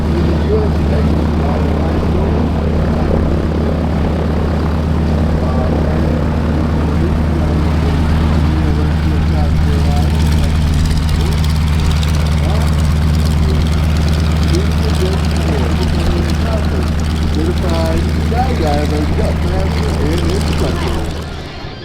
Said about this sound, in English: What you're seeing coming down the runway is a Grumman Cat biplane.